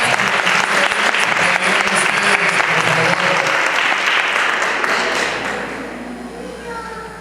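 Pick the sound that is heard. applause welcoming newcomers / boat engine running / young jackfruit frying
applause welcoming newcomers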